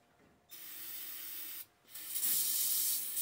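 A can of carpet cleaner spraying in two hissing bursts, the first about a second long and the second longer and stronger, close up with no talking.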